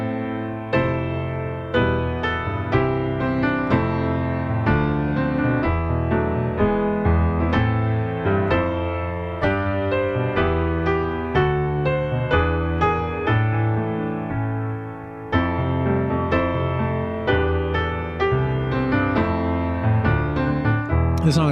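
Solo piano plays a Final Fantasy VI piece in a steady, full-bodied performance of chords and melody that runs continuously at even loudness, with no voices.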